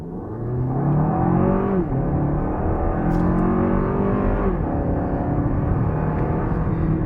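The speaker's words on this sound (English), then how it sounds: "Put a little acceleration down." A 2023 Lexus RX350 F Sport AWD with a 2.4-liter engine accelerating hard: a steady, loud cabin engine drone whose pitch climbs through rising gears, with no one talking.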